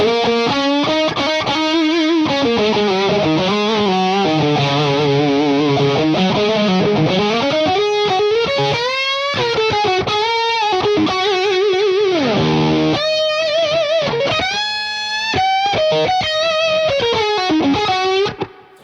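Heavily driven electric guitar with a mid boost engaged on a small V4 stereo rig, a long loud passage of chugging chords and bending lead lines, up close and continuous, with a short dip midway and no speech.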